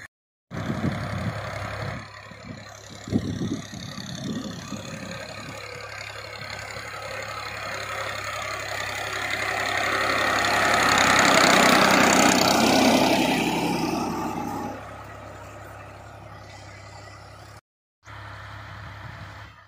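A tractor engine runs steadily out in a field, a low continuous rumble that swells louder midway before cutting briefly near the end and restarting.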